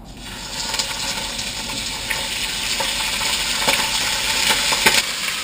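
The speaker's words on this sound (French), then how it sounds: "maintenant, on va faire revenir la fricassée de canard" Duck fricassee sizzles and crackles in a hot pan, with occasional stirring scrapes and clinks over a steady frying hiss.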